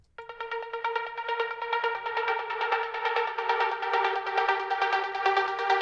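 Two layered synth leads from Serum and Spire play the same MIDI line in a track, a bright, buzzy stack of rapidly repeating notes that pulses steadily and swells slightly louder over several seconds.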